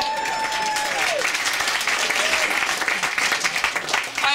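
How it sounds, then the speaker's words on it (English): A comedy club audience breaks into loud, steady applause for several seconds, a dense wash of clapping with a few scattered voices and cheers woven through it. "That deserves a clap."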